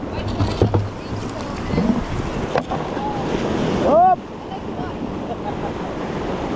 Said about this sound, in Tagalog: Grabe lakas ng alon, no?